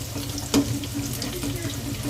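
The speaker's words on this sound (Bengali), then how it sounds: "দুটো সাইড খুব ভালো করে ভেজে নিতে হবে, মিডিলে যাতে কাঁচা না থাকে সেই জন্য চেপে চেপে দিচ্ছি" Hinche greens fritters frying in oil in a pan, a soft steady sizzle with a brief louder spatter near the middle as they are pressed down.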